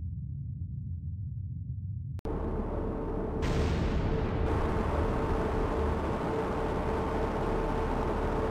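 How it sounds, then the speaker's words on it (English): A loud explosion picked up on sonar in a naval warfare game strikes suddenly after quiet low rumble, then becomes a broad sustained roar that fills the rest. "Con sonar, loud explosion, bearing"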